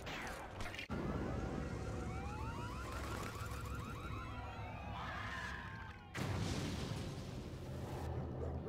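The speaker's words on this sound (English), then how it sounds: "And there's our beep beep." A vehicle horn beeps in LEGO Batman through a busy stretch of mechanical game effects, with a sharp cut partway through and a burst of noise after it.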